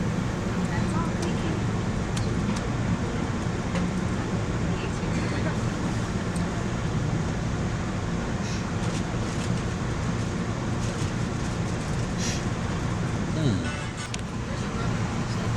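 Amtrak's original Acela Express train departing Newark, heard from on board: a steady rumbling roar of running gear and track noise, continuous and fairly loud throughout.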